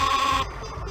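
A cloned sheep in the video game Spy Fox 2 gives a single bleat in stereo, a loud, buzzy, wavering cry that cuts off abruptly and leaves a quieter room tone.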